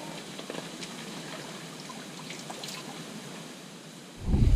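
Faint, steady trickling water from a spring source runs quietly in the background, ending with a brief louder low thump.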